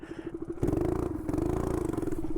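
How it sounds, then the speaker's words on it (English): Mini bike engine revving hard during a wheelie attempt, a loud steady buzzing drone that surges louder partway through, with some clattering and no talk. "Learning how to wheelie a mini bike"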